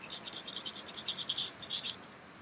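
Old bedding compound scraped off a Com-Pac 23 sailboat deck during genoa track installation; quiet, rapid scratchy strokes in quick bursts, close up, with no talking.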